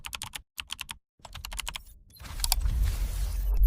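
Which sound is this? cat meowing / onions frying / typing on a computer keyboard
typing on a computer keyboard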